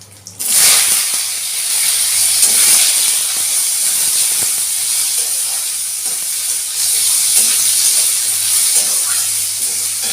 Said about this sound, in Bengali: ফোড়নটা ভাজা হয়ে গেছে এবার আমি দিয়ে দেবো ভাপানো আলুগুলো